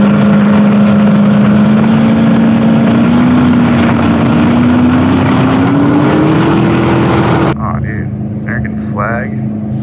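A modified jet boat's engine drones loud and steady on the water, its pitch slowly climbing before dropping away; a voice comes in near the end.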